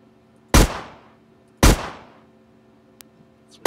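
Two sharp, loud gunshot blasts about a second apart ring out in a Unity 3D game prototype, each decaying over roughly half a second, followed by a small faint click and the start of a third shot.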